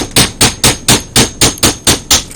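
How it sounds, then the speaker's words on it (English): Hammer blows on a metal punch driving out a stuck shaft from a Emotator 1200 antenna rotator during teardown: nine loud, sharp, evenly spaced strikes at a steady quick rhythm, close and alone. "I've got to hammer it out"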